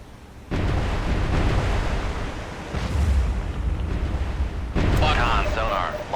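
A destroyer's VLS missile launches in a modern naval combat sim, heard as a loud sustained rushing roar with low rumble that swells and carries on for several seconds, with a fresh burst near the end.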